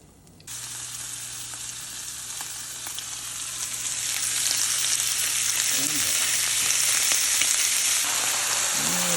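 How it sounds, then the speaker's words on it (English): Beef and pork frying in bacon fat in a pan for keto cabbage rolls, a loud steady sizzle that starts abruptly and builds, with faint stirring scrapes and a low hum underneath. "I'll put a little bacon fat in there, and I'll fry the beef and pork."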